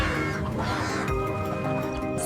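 Farm chickens clucking and squawking close by over a dense, busy backdrop of layered animal calls, steady and loud throughout with no talking.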